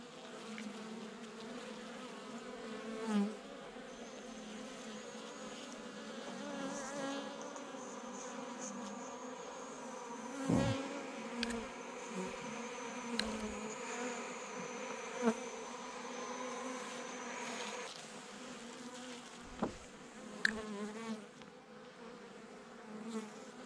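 Honey bees buzzing around an open hive during a November colony inspection, a steady low drone with individual bees passing close now and then, and some faint handling knocks.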